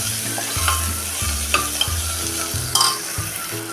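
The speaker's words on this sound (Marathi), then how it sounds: "टोमॅटो जरा बऱ्यापैकी मऊ होईपर्यंत आपण थोडासा टोमॅटोचा कच्चा कणा कमी होईपर्यंत परतून घेऊया" Tomatoes sautéed and stirred in a pan while making dal khichdi, a close, steady sizzle broken by repeated scraping strokes of a spoon against the pan, with no voices.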